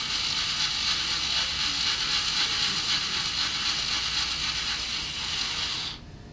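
Screws on a Party Pig beer package being tightened, a continuous dense ratcheting whir close by that runs for several seconds, then stops abruptly, with no talking.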